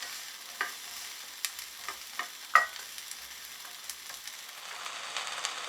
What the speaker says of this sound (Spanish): Y ya que el echalote se haya caramelizado vamos a agregar los espárragos. Y los dejamos sofreír por aproximadamente 3 minutos.